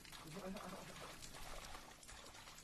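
Water trickles from a water source, mixed with people talking nearby and broadband outdoor noise.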